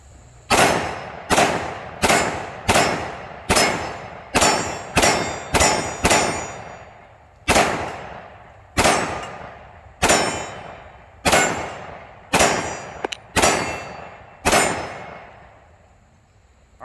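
Smith & Wesson M&P pistol in .357 SIG firing jacketed hollow points at freshly painted steel targets: around sixteen loud shots, each followed by a ringing metallic clang, in quick bursts with short pauses.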